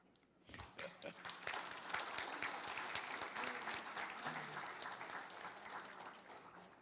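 An audience at a centennial celebration bursts into applause, sharp individual claps at first building into a full, sustained ovation, with some voices audible underneath.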